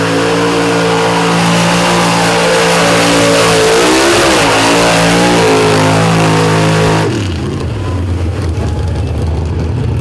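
A Barry Allen-built 401 cubic inch AMC Jeep powers through a thick mud pit, its loud, close engine roaring steadily at high revs before the pitch drops sharply as it backs off near the end.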